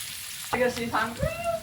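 Chopped onion and two green chillies fry in hot oil with a close, steady sizzle, and a short stirring scrape partway through.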